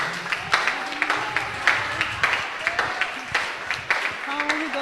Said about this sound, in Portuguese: Aplauda Jesus aí, irmãos